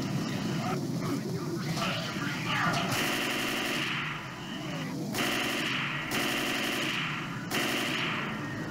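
Rapid automatic gunfire from the zombie shooter Left 4 Dead 2 comes in repeated bursts over a busy game soundscape, with a player talking faintly underneath.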